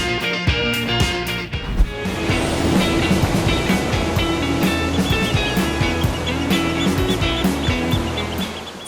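Surf rolls onto a quiet beach in South Garut as a loud, steady, close wash of breaking waves that continues without a break and with no voices.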